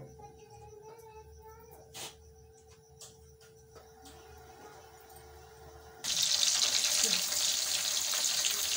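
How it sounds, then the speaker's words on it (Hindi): Water poured into a pan of egg gravy while cooking, a quiet kitchen with faint clinks and taps giving way to a loud, steady hiss of pouring and sizzling for the last few seconds. "अब इसकी थोड़ी भुनाई होने के बाद हम इसमें थोड़ा सा पानी डालेंगे ताकि ग्रेवी जो है अच्छे से बन जाए।"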